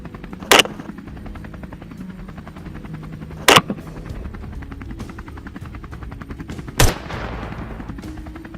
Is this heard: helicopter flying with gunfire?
yes